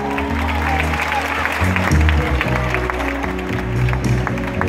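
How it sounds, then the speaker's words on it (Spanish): Concert crowd applauding the band and crew at the Starlite Festival in Marbella, a steady dense wash of clapping and cheering that holds over low music throughout. "Fuerte aplauso para Rubén"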